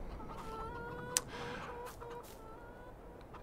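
Chickens cluck in a coop in the video game Farming Simulator 22, a few soft, close clucks over a steady farm ambience, with one sharp click partway through.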